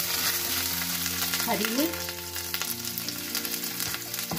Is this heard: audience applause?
no